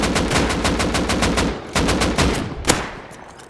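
Rapid bursts of automatic gunfire in the survival video game Rust, a fast run of sharp shots followed by a few spaced single cracks, loud and close with no talk over it.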